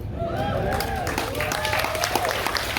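Audience applause in a room aboard a cruise ship, a steady wash of clapping from a crowd with a person talking over it, moderately loud and continuous throughout.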